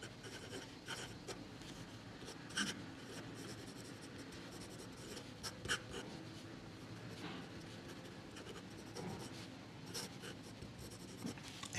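Fine-nib Pilot 78G fountain pen scratching across paper in steady close strokes, a soft continuous scribble with occasional light taps, quiet and alone.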